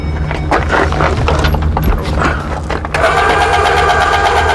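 A vehicle engine runs steadily and loudly nearby while a trailer hitch is set up, a continuous rumble that shifts to a brighter, denser tone partway through.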